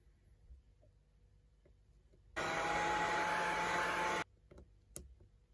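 A heat gun is turned on for about two seconds to soften the battery adhesive inside an iPod Nano 5th generation. It gives a loud, even whooshing hiss that starts and stops abruptly between faint clicks and handling noises.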